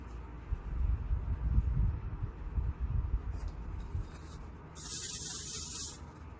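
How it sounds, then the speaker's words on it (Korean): A hair gloss product is sprayed onto a styled updo during a hairdressing demonstration, one steady hiss lasting over a second after some rubbing and handling noises. "전부 다 광택제를 뿌리는 거죠"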